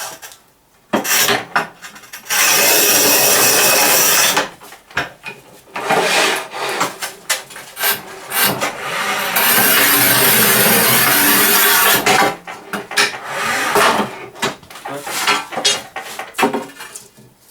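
A manual tile cutter scores ceramic tile in several long, loud rasping strokes separated by pauses, with clicks and knocks of the handle and tile between passes.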